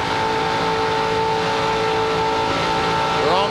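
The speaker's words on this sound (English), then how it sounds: "if you can hear the engine in Sauter's car, even from the bump, he never backed off the throttle" A 2002 NASCAR Busch Series race car driven by Johnny Sauter roars at full throttle around Daytona International Speedway, a loud, steady, high-pitched engine drone held without letup, pitch wavering briefly near the end.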